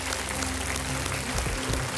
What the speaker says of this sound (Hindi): इन खिलाड़ियों का जोरदार तालियों के साथ स्वागत किया जाए